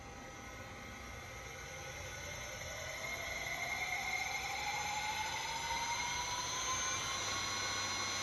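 A 2x72 belt grinder starts up and runs at 4000 RPM, giving a steady broadband rush with a motor whine that rises gradually in pitch as it spins up, close and continuous with no talking.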